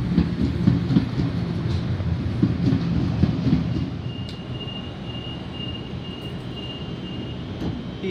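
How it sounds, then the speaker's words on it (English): A Sydney B-set electric passenger train pulls away from a platform at Lidcombe station, a loud, steady rail rumble with wheel clatter that eases slightly, and a faint high squeal near the end. "B13 departing platform number 3, C-circle via Town Hall service"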